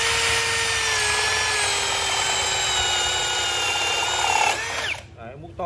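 A Hukan 1065P 10mm electric drill bores into wood with a Tosen hole saw, giving a loud, steady high whine for about four and a half seconds before it stops abruptly.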